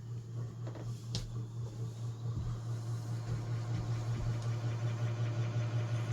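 Antique 1952 Emerson Roundnose 52-inch ceiling fan, model 86641-AG, running on high with a rattling blade: a steady low motor hum with a faint rhythmic rattle and occasional soft knocks.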